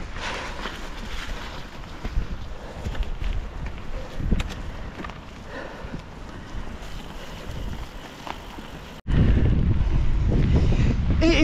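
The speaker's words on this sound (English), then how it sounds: "It is a windy one today." Strong wind buffets the microphone on a forest trail bike ride, a continuous rumbling roar with gusts that suddenly grows louder and boomier near the end, no talk.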